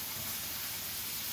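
Butter sizzles in a hot pan alongside a Chateaubriand beef fillet with oil and garlic, a steady, even hiss that stays constant and fairly close throughout, with no talking.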